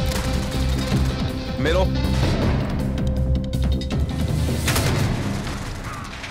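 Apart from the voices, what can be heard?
gunfire in Modern Warfare video game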